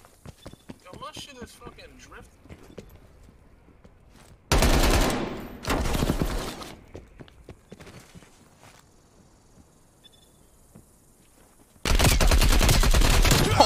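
Bursts of rapid automatic gunfire from Call of Duty Cold War in Gun Game mode, two loud sustained volleys separated by quieter stretches of footsteps and faint game sounds.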